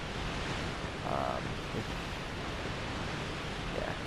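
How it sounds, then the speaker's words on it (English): A loud waterfall in Dark Souls 2 roars as a steady, dense broadband rush that fills the whole stretch with no breaks and no clear voices. "that game gets really loud with the waterfall"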